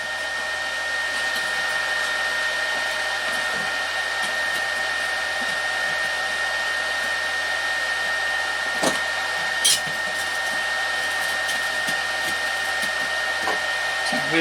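Stick welding thin metal with a Minleaf ZX7-250 inverter arc welder, a steady continuous crackling hiss with a constant tonal whine, a couple of sharper pops near the end, no talking.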